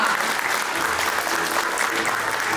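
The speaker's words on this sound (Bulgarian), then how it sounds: "И разбира се, много аплодисменти за двете любимки." An audience at a first-grade school celebration claps steadily, a loud, close and continuous wash of hands with no talk on top.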